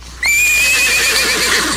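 A horse gives a loud, close whinny that begins suddenly and holds a long, wavering high-pitched call, with no talking over it.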